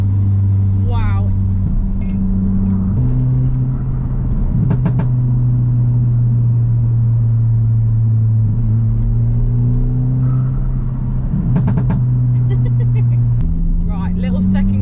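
A stage 1 remapped Audi TT pulls hard in second gear, its engine a loud, close, steady drone heard from inside the car that steps up in pitch as it accelerates, with faint voices over it.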